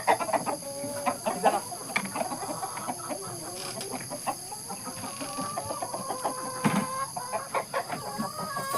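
Several Pelung chickens cluck and chatter close by in a steady, overlapping stream of short calls, with no one talking over them.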